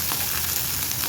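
Oil hisses and sizzles steadily in a pan as green chillies fry for a stuffed chicken chapati filling, a close, even crackle with no talking.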